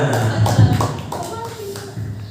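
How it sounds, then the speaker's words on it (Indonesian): Scattered clapping at a high school student council event, with a few taps and hand claps mixed under murmuring voices and chatter nearby; the clapping stays light and brief rather than building into full applause. "Beri tepuk tangan dulu untuk Kak Bunga."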